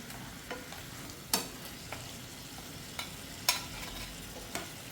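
Mutton sizzles and fries in ginger garlic paste for a tomato curry, a steady crackling hiss broken by several sharp stirring scrapes spaced a second or so apart, close and with no voices.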